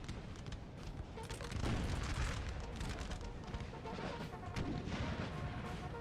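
Artillery cannon fire in Napoleonic: Total War 3 booms repeatedly in a dense, rumbling barrage of overlapping blasts, loud and continuous across a wide battlefield.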